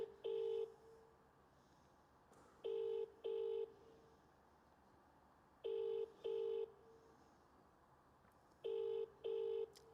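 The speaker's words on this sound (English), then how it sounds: "It's not sounding like Ramin is going to answer." An outgoing phone call rings unanswered, paired double ring-back tones repeating about every three seconds with quiet gaps between, fairly faint and with no talking.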